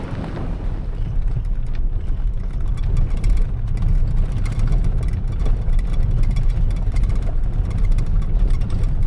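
A vehicle engine rumbles steadily while driving along a forest ridge in Oregon's backcountry, a continuous low, rough drone with road noise that stays close and fairly loud throughout.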